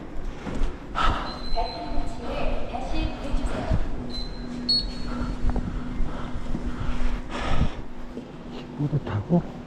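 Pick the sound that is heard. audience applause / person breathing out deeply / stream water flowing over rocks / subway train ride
subway train ride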